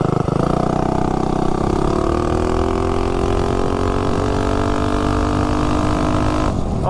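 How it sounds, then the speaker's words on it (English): A tuned Juggernaut engine revs hard during a launch, a loud continuous drone rising in pitch and then holding steady, heard up close without voices. "Oh yeah, it lets this thing rev now."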